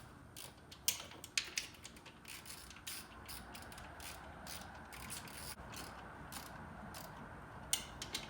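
A hand ratchet clicks in quick bursts of rapid pawl clicks with short pauses while tightening throttle body spacer bolts on a Lexus GX470, quiet and close, with no talking.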